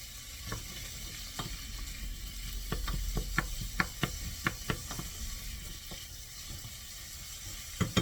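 A medium chopped onion sautés in a big tablespoon of melted butter, giving a steady close sizzle broken by scattered sharp taps and scrapes of a stirring utensil, with no talking.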